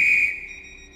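A guard's whistle from a Class 195 train in a railway video game gives one sharp, shrill blast that holds steady, then fades into a quieter tail.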